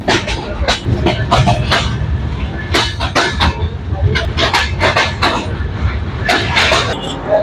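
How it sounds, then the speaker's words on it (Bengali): Ekota Express passenger train in Bangladesh running at speed, a loud, steady rumble with repeated clattering wheel bursts throughout. "ট্রেন ছুটে চলছে দুরান্ত গতিতে"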